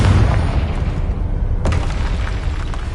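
A Confringo spell explosion in the video game Hogwarts Legacy on PS5, a loud low booming blast with rumbling debris and a sharp crack partway through, no speech.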